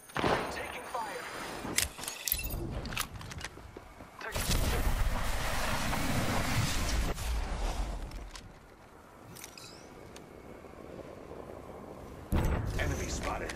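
Gunfire in the battle royale game Apex Legends, with several sharp bursts and shots breaking through steady mechanical din and footsteps, sometimes close and loud, under game voice callouts.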